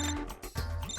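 A phone rings in an office in a Hindi TV comedy scene, a tonal, melodic ringtone at moderate level with brief breaks between phrases.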